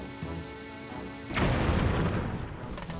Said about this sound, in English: It's a mysterious flower that explodes after you pick it up.